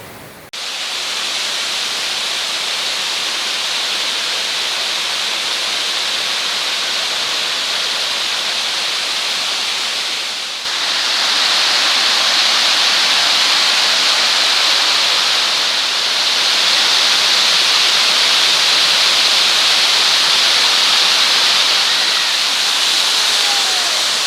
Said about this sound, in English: So we made it to the top of the waterfall here.